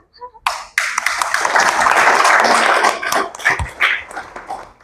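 An audience at a lecture breaks into applause after a few scattered claps, building into a dense, loud burst of clapping that gradually thins out into separate claps.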